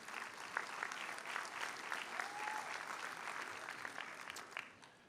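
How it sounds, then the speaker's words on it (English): Applause at a 2024 high school graduation ceremony at Eastwood Academy, a broad sustained round of clapping from a large audience, fairly distant and even, tapering slightly at the end. "Let's have one last round of applause for everyone here."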